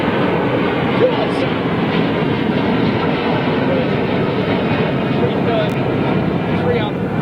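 An Airbus A330-300 with Rolls-Royce Trent 700 engines departs London Heathrow, its engines a broad, steady roar heard from a distance, with people talking over it.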